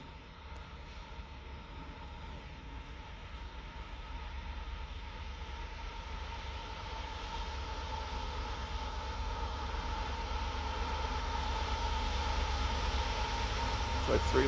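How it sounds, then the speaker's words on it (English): A CSX manifest freight train with several locomotives approaches on a foggy morning, a steady low rumble and drone that grows slowly louder over the whole stretch, with no talk. "Got the 542 manifest coming out of Norcross, Georgia on his way to Cincinnati."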